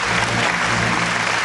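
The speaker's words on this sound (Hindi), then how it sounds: "तालियां हो जाएं।" A crowd at the 2011 Max Stardust Awards claps for Shreyas Talpade, a short burst of full, continuous applause filling the hall, with no voices on top.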